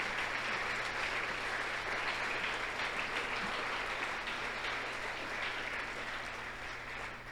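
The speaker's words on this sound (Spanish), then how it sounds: "Dele un aplauso al Rey" A church congregation applauds steadily for several seconds, a dense, even wash of clapping that fades slightly toward the end, with no voices above it.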